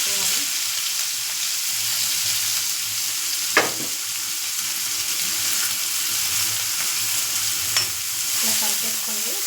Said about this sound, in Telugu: అలాగే ఇప్పుడు ఇందులో ఉల్లిపాయలు, పచ్చిమిర్చి కూడా వేస్తున్నాను.